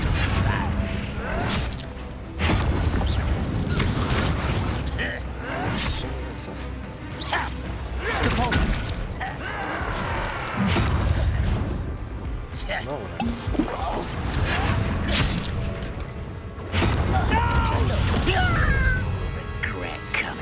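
Explosive fire-spell blasts and whooshing magic bursts crash repeatedly through hectic combat in Hogwarts Legacy, loud and dense, with a voice talking over much of the fighting.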